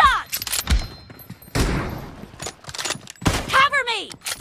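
Sharp bursts of rifle fire from KAR98s in a two-versus-two Battlegrounds Mobile India team deathmatch, a few loud separated shots with echoing tails, mixed with in-game voice callouts.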